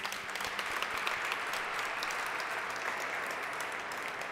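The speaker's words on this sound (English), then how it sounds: "Could we give them a round of applause" An awards-ceremony audience applauding, a soft, continuous wash of many hands clapping heard from a distance, steady and even throughout with no voices on top.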